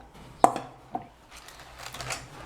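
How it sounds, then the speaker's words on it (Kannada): A crispy fried snack is broken by hand, one sharp crack followed by a smaller snap and light crumbly crackling, close and fairly quiet. "ನಿಮಗೆ ಸೌಂಡಿಂದ ಗೊತ್ತಾಗ್ತದೆ ಎಷ್ಟು ಕ್ರಿಸ್ಪಿ ಆಗ್ಯಾವ ನೋಡಿ"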